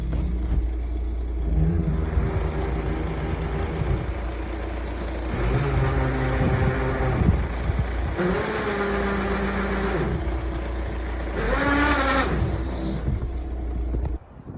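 A VW T5 van with a drive shaft fault runs in gear, its mid-pitched engine rising and falling in three or four repeated revving surges over a steady low rumble, close and continuous with no talk.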